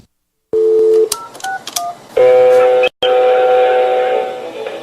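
Touch-tone telephone dialing, a quick run of keypad beeps, then a steady ringback tone pulsing twice before a call to a professor connects, loud and close with no talk.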